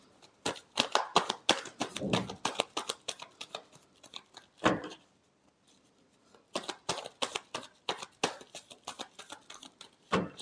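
Tarot cards being shuffled by hand, quick rapid riffles of crisp papery flicks in bursts with a short pause midway, close and fairly quiet.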